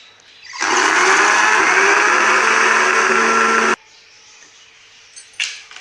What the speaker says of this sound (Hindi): अब हम इन सब चीज़ों को 1 मिनट के लिए ब्लेंड करेंगे।